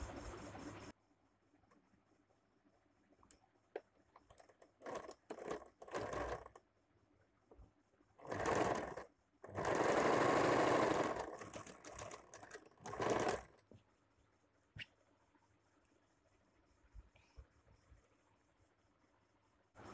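A sewing machine stitches the shoulder seam of a round-neck nighty with pleats, running in short bursts and then one longer sustained run of several seconds, close and clear, with quiet handling noise in the pauses.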